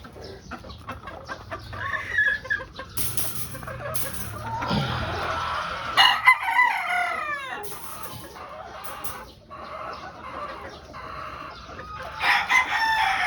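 Pure white Kelso peacomb gamefowl crow repeatedly, several loud cock-a-doodle-doos over scattered clucking and chatter from the birds, with other crows trailing in the distance.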